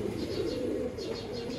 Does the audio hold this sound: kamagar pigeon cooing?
yes